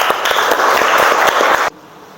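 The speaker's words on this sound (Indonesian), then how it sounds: "Kasih tepuk tangan untuk siap." A classroom of students applauds, a burst of dense, loud clapping with a few sharper individual claps, ending abruptly after about a second and a half into quiet room tone.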